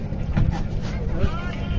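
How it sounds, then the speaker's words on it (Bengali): A boat's steady engine hum on the water near Jaflong, Bangladesh, with wind buffeting the microphone, close and continuous, while people talk nearby. "নৌকাতে এখনো যাচ্ছি মায়াবী ঝর্ণার দিকে"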